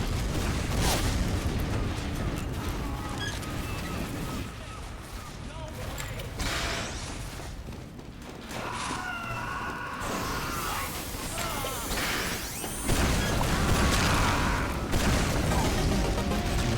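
A train in Team Fortress 2 rumbles past amid gunfire and explosions, a loud dense wash of blasts and mechanical clatter that runs throughout, with bursts of heavier impacts near the end.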